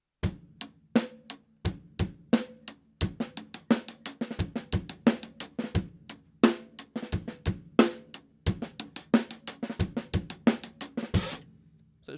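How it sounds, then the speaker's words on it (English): A drum kit plays a groove that switches paradiddle sticking in and out, with crisp, close snare and hi-hat strokes in a steady rhythm and brief pauses between phrases, played alone without talk. "just see how it sounds putting the paradiddles in, taking them out. And it sounds like this."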